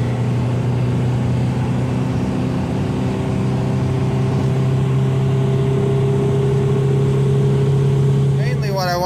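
A Toyota with a swapped-in 1.9L TDI diesel and a GTC2262 turbo, its engine droning loud and steady at sustained revs from up close, with a brief rising whine at the very end.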